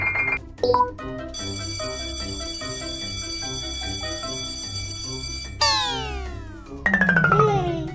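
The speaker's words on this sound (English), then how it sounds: "Outside, Daddy Pig presses the doorbell again." A doorbell chimes with bright electronic ding-dong tones, followed by sustained ringing notes and sweeping musical effects.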